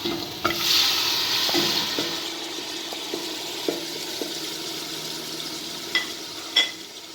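Small cut pieces of lamb frying in a pot for vermicelli soup, a soft steady sizzle with occasional stirring clicks and scrapes, close and moderately quiet.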